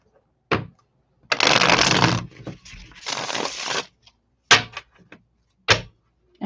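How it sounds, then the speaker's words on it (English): A tarot deck being shuffled in several bursts: two long riffling runs in the middle, flanked by short sharp card taps and knocks, close and crisp with no talking. "Give it one more shuffle."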